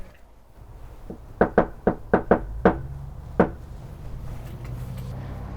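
Seven or eight sharp knocks land on a door in an uneven cluster, loud and close, with a short pause before the last rap and faint background hum around them.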